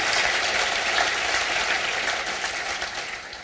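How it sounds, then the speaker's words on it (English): A breakfast audience at a business event gives the panelists a round of applause, dense sustained clapping that slowly tapers toward the end. "Will you please have a round of applause for all of our panelists?"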